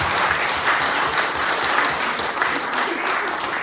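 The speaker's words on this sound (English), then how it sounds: "maybe we could all just give a little applause for all our speakers here today" An audience at a community meeting claps for the speakers, a loud, sustained wash of applause from many people throughout.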